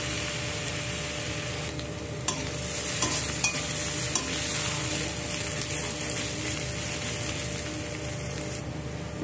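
Garlic paste fries in a pan alongside browned onion for a sea mourola fish curry, a loud, steady close sizzle with a few stirring clicks and scrapes, and no talking.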